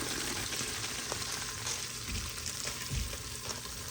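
Diced medium carrots sautéing in half a stick of butter in an Instant Pot on saute, a soft continuous sizzle with a few low bumps of stirring, quiet and without talk.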